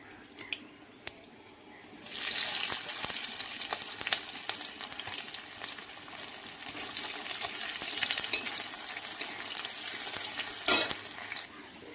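Chopped garlic, onion, dried red chillies and green chillies sizzle and crackle steadily in hot oil, starting abruptly after a couple of soft knocks and continuing loud and close throughout.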